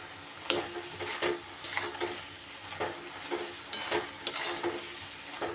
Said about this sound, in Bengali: দুধটা দিয়ে এইভাবে মিশিয়ে দেব।